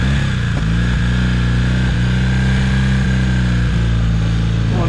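A 1982 Honda CM450 café racer motorcycle engine runs loud and steady at close range, with a constant low throbbing rumble and no clear rise or fall.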